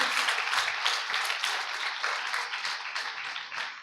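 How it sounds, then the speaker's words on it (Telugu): A church congregation at a Sunday worship service breaks into steady, dense applause. The clapping is sustained and even for several seconds, fills the room, and has almost no voices in it. "చప్పట్లు కూడా దేవుని మహిమపరచండి"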